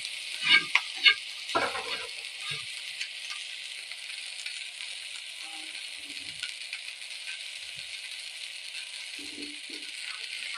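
Grasshoppers fry in a pan until browning, a continuous bright crackling sizzle with a few clinks and stirring knocks near the start, then a steady hiss, no voices.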